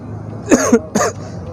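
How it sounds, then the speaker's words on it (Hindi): Two short, sharp coughs in quick succession, close and fairly loud, with quiet in between and after. "सॉरी, मुझे खांसी हो गई है।"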